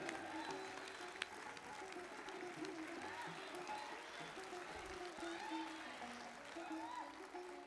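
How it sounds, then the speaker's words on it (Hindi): Sustained applause from an audience at a Republic Day kavi sammelan and mushaira in Dubai, a dense even wash of clapping that runs throughout, heard from a distance. "आपकी बहुत सारी तालियों में।"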